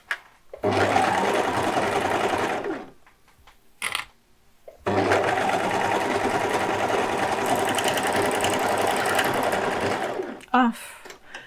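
A domestic sewing machine stitches in two long bursts, loud and close, with a brief pause between, while someone talks over it.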